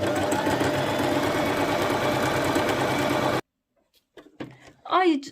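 A Singer Promise 1408 sewing machine stitching, with a steady close whirring and rapid needle chatter for over three seconds, then stopping, followed by someone speaking.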